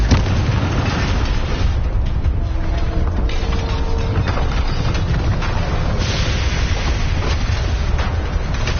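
A Confringo fire spell detonates in the video game Hogwarts Legacy, loud rumbling blast and crackling burst energy filling the whole stretch, dense and booming with no talk.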